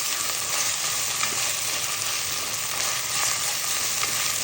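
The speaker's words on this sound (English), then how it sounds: "Fry this up, get it going, and add the meat." Turkey meat frying in a pan, a steady close sizzle and crackle running without pause, with no talking.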